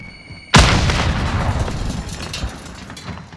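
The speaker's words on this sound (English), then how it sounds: "Throw a grenade! Throwing grenade!" A grenade explodes in Call of Duty: Warzone on Xbox Series X. There is one sudden loud boom, and it trails into a long rumbling tail with no talk over it.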